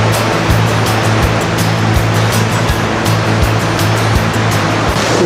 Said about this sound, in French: La cascade est derrière nous.